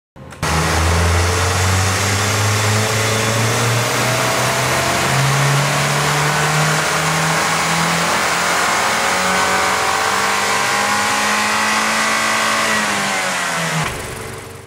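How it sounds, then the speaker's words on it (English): A new Mazdaspeed 3 fitted with a Synchronic blow-off valve revs hard on a dyno. The loud, steady engine note climbs in pitch for about thirteen seconds, then cuts off sharply as the throttle closes. "We're throwing it on the dyno here at Synapse Engineering"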